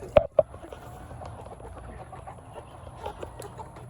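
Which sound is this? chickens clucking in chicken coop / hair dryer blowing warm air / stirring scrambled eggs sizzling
chickens clucking in chicken coop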